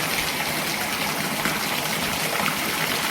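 Heavy monsoon rain pours down in a thunderstorm, a dense, even roar of water that holds at the same loudness throughout, with no distinct thunderclap and no voices.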